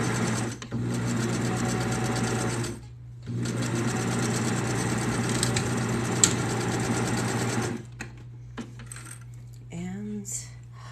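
A sewing machine stitches a pink and gold tube top in rapid whirring runs, stopping briefly between them, then gives a few short bursts and faint clicks near the end.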